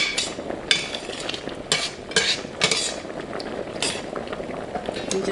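A utensil stirs half a cup of cream with shrimp in a pan over medium heat, making repeated clinking scrapes against the metal in an uneven rhythm over a soft background of bubbling, close by and without speech.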